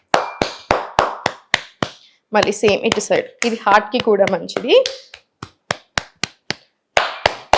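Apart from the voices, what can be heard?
tapping the body with clasped hands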